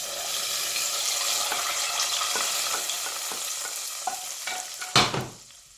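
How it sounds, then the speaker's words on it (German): Buttermilk soup with fatty bacon stirred in a pot: a continuous soft bubbling hiss with light spoon taps against the rim, ending in one louder knock, close and without talking. "So, einmal noch schön umrühren."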